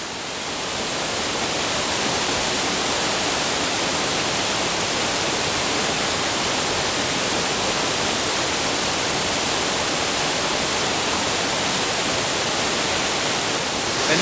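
A waterfall roars in a dense, steady rush of falling water, loud and close throughout with no talking.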